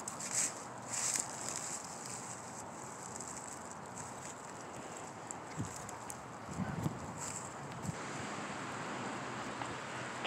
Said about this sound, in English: Okay, the wind is blowing.